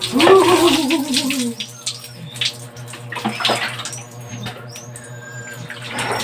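Cold tap water is poured for a bath, beginning with a loud splashing gush that settles into a steady trickle and running water. Faint chirps sit above it, with a low hum throughout.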